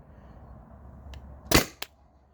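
A CO2-powered Tippmann TPX paintball pistol fires one sharp, loud pop up close, followed by a brief second click, against a quiet background.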